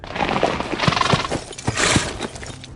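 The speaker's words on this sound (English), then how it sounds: "The horses snorted and stamped their feet impatiently." Several harnessed horses snort and stamp their hooves, with irregular thudding hoof strikes and breathy snorts over a steady, busy background, no speech.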